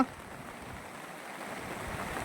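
A flooded river swollen by heavy ghat rain rushes past in a continuous broad roar, steady and fairly close, with no talk over it.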